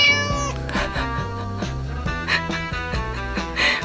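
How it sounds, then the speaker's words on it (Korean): A cat meows repeatedly indoors at a desk covered with highlighter pens, the cries sitting over steady, rhythmic background music. "고양이 뭐하냐"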